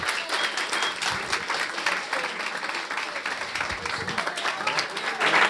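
Applause and cheering greet François Moncla at a live Occitan-language rugby show in Morlaàs, an uneven wash of clapping from the crowd with some voices mixed in, swelling slightly at the end.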